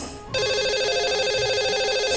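A telephone rings out on a call to a radio show's lucky caller, a steady electronic ringtone that starts abruptly and holds loud and continuous to the end.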